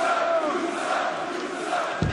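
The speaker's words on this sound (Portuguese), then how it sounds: "Pessoal gritando ali para o Karrion Kross, você fede." A large arena crowd at a WWE SmackDown wrestling event in Lyon, France shouts and boos at the wrestlers in a continuous, dense roar with rising yells, ending in a sharp thump.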